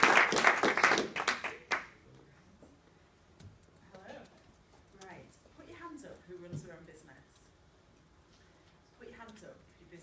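An audience breaks into applause to welcome a speaker at a business talk, a loud burst of clapping in the first two seconds that fades into quieter room noise and a speaking voice.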